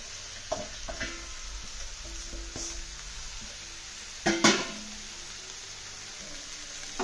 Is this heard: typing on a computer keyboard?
no